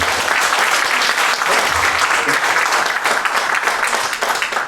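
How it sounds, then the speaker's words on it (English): A conference audience at AgoraCon 2019 breaks into sustained, dense applause for a speaker, loud and steady throughout with no pauses. "So big, massive round of applause for Pedro."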